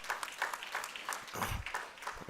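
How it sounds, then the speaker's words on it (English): Faint applause from an audience at a school investiture ceremony, distant steady clapping for a couple of seconds. "all our alumni deserve a big round of applause for that initiative"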